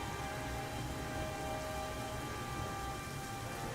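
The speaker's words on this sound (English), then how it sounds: "It is downpouring today." A heavy rain downpour in the video game Nioh 2 makes a dense, steady hiss with no breaks, under faint sustained tones and no speech.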